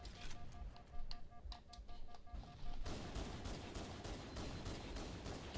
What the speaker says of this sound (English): Good old pistol.